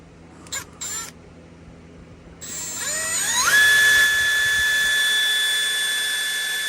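A small power drill bores little holes in 3D printed plastic feet, opening with a few short bursts, then spinning up into a sustained high-pitched whine that stays loud to the end.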